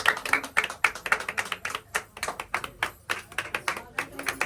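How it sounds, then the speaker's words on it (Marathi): A group of people claps by hand at a wedding gathering, a steady run of sharp, close claps at an even rhythm lasting several seconds with a little background chatter. "टाळ्या वाजवा रे."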